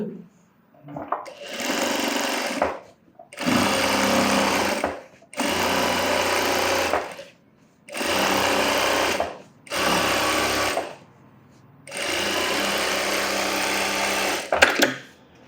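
A sewing machine edge stitches the lining of a scalloped blouse in six loud, close bursts of steady whirring, each separated by a short silent pause.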